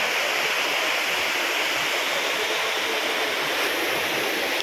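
Rushing water at Vadattupara waterfall in Kothamangalam, low-flow season, an even unbroken hiss and roar heard up close, dense and loud throughout with no talking.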